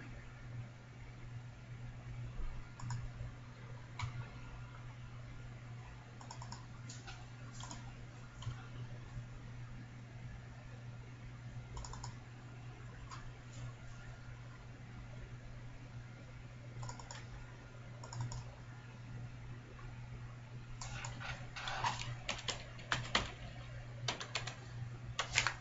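A computer mouse clicks and keyboard keys tap faintly in scattered bursts while an image is saved, over a constant low electrical hum, with a quicker run of clicks toward the end.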